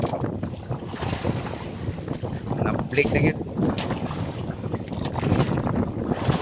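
Strong sea wind blows across a small fishing boat out on open water, roaring and buffeting close to the microphone with waves lapping beneath. A voice speaks briefly over the gusts.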